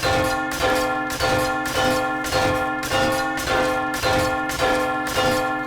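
Bell in the video game 7 Days to Die struck repeatedly by nail gun fire, ringing about nine times at a steady rhythm, each loud metallic clang with rich overtones decaying into the next.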